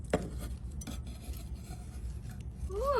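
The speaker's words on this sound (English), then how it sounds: "I'm going to go ahead and just cut into one of these just so we can see what it looks like" A knife cuts into a piece of fried meatloaf, giving quiet close scraping and a few light clinks against a plate, with no talking.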